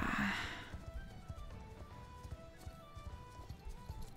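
Horse hooves drum in a steady slow canter rhythm in the game Star Stable, with a brief whinny-like burst at the start and soft background ambience.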